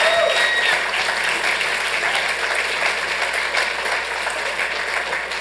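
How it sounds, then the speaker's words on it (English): A city council meeting audience claps steadily for the parents of speech and debate students, a dense and even round of applause that carries loudly through the whole stretch. "clapping for the parents of these national speech and debaters"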